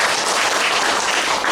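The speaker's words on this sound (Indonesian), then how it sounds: "Beri tepuk tangan untuk Tuhan Yesus." Church congregation at a prayer service clapping together, a loud, dense wash of hands filling the short moment without any voices on top.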